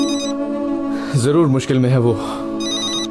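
A telephone rings with a sustained electronic tone that runs throughout, while a voice speaks over it in the middle.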